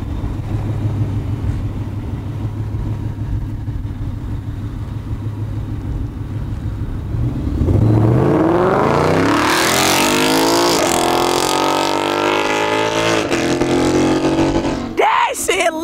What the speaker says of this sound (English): I had the MBRP exhaust, race exhaust